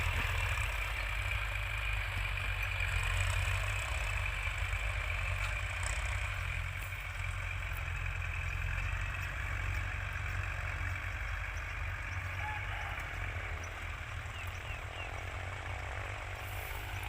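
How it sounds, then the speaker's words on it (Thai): A large farm tractor engine idles nearby with a steady, deep, unbroken drone that holds at a constant level under hot open rice-field air, with no voices. "เขาจะพาไปชมทางนู้นรถไถใหญ่นะครับ"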